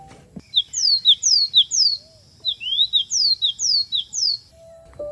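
A small elegant tit sings a series of high, thin, descending whistled notes in quick runs, clear and bright against a quiet background.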